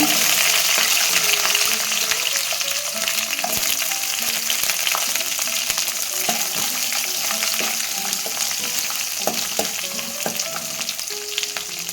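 Garlic frying in hot oil for a Tamil green turkey-berry kuzhambu, a loud, continuous sizzle broken by scattered clinks and scrapes of stirring, with no talking.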